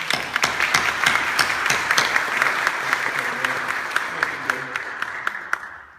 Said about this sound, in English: Let's give him a round of applause, okay?